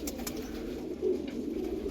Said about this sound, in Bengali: এই দুটো পায়রা ভিডিও বানাচ্ছি